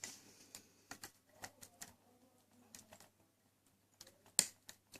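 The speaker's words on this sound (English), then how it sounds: "There, you hear that click." Quiet, sharp clicks from a lock pick setting pins in a Baldwin lock, a scattered series of small metallic ticks with one louder snap near the end, close and alone with no voices.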